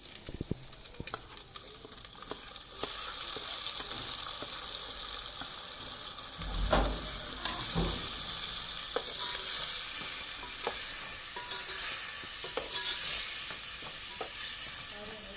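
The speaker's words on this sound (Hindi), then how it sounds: "पहले जैसे मसाला भून जाए फिर दाल डालेंगे" Spice masala frying in a pan for moong masoor dal: a continuous loud sizzle that swells partway through, broken by scattered scraping and stirring knocks. No talk.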